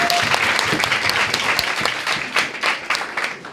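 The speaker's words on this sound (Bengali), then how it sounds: "আসুন আমরা শুরুতেই আজকে নতুনদের একটা উষ্ণ করতালির মাধ্যমে স্বাগতম জানাই" At a university reception welcoming new computer science students, a hall audience gives warm applause. The clapping is loud and thick at first, then thins slightly toward the end, with no talking.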